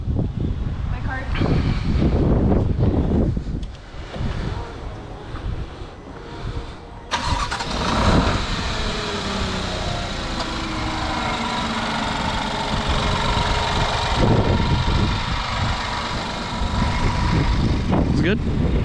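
A Subaru WRX engine cranks and catches after maintenance work, then settles into a steady idle with a brief blip, while people talk nearby.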